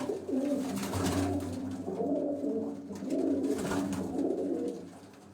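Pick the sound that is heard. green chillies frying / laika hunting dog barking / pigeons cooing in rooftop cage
pigeons cooing in rooftop cage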